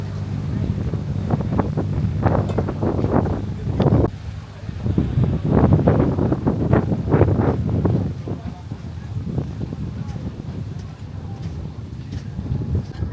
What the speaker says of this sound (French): Je sais pas si vous m'entendez, j'ai pas mis le micro et il y a du vent.